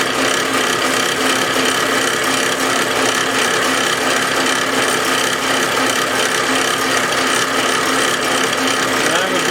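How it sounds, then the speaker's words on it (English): Sandpaper rubbing against a spinning turned wooden vase on a lathe, a steady loud abrasive hiss over the continuous hum of the machine, with no pauses. "Time to sand her up."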